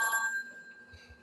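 A telephone rings with a single bright electronic ring burst at the start that quickly fades, leaving a quiet room with a couple of soft low thumps.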